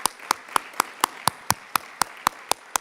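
Sharp, evenly spaced hand claps, about four per second, sound steadily and fairly quietly at a charity challenge finals event, more like a lone clapper keeping time than a full crowd.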